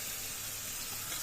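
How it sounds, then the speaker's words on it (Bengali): Washed rice tipped into a pot of biryani, a soft continuous hiss and sizzle of grains settling into hot liquid, close and fairly quiet with no talk. "এবার আমরা এখানে দিয়ে দেব ধুয়ে রাখা চাল।"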